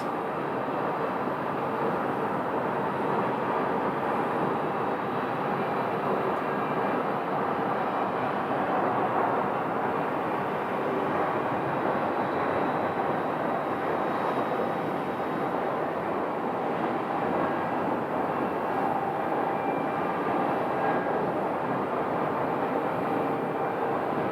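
An American Airlines airliner passes at Phoenix Sky Harbor airport, a broad steady jet rumble and roar that fills the scene at moderate distance with no voices over it.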